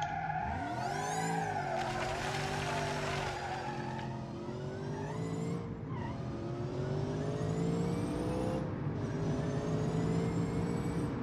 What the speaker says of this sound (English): that's how a supercharger sounds